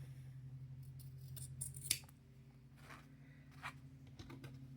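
Scissors snipping fabric while trimming a small sewn chicken-beak piece for a quilt block, a few quiet, close, irregular cuts with pauses between them.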